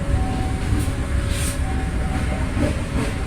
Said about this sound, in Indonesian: sebentar lagi kereta api Tawang Alun ini akan berhenti di